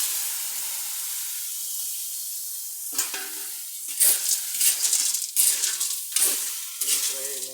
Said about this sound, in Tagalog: At igigisa na muna natin ang suso.